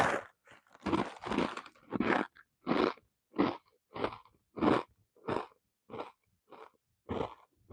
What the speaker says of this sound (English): Feel free to fast forward the chewing if you're here for the playback.